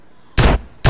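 Two loud, close shotgun blasts in GTA San Andreas, short sharp bursts about half a second apart.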